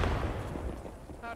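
Gunfire in the game Post Scriptum, a few loud low booming shots close together over a short stretch.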